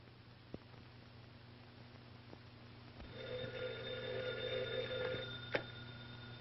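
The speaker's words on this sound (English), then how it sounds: "Telephone. Telephone." An old-fashioned telephone bell rings in steady, closely repeated trills for about two and a half seconds over a low, constant hum in a 1930s film scene, ending with a sharp click, with no one talking.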